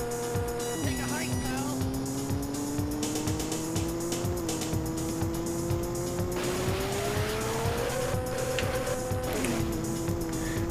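Racing car engine droning steadily with a rising and falling pitch and bursts of tire squeal in the Turbo OutRun arcade racing game, loud and continuous under a voice talking over it.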